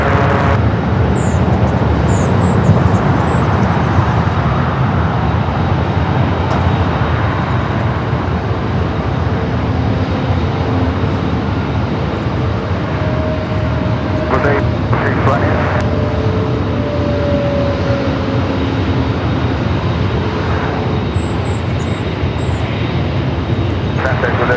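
An airliner taxis at LAX toward a north side runway for takeoff, a steady broadband engine rumble at moderate distance with occasional higher whines, while someone talks over it.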